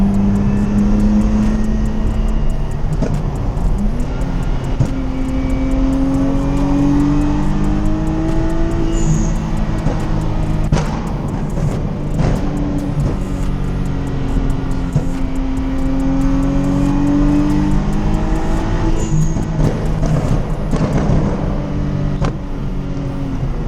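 A Nissan 370Z swapped with a VR30 3.0-litre turbo engine makes full-throttle pulls, its loud engine note climbing repeatedly through several gear changes, continuous and close from inside the car.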